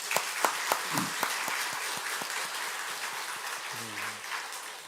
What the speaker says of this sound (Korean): 축하의 박수 한번 쳐주시죠